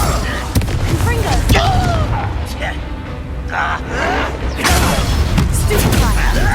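A Confringo blast spell goes off in Hogwarts Legacy, sharp booming impacts and crackling bursts tangled with voices talking over the combat.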